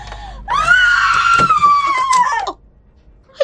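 Woman screaming in a horror audio drama, one long loud shrill cry held for about two seconds before breaking off, followed by a brief quiet pause.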